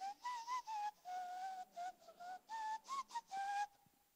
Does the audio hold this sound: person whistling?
yes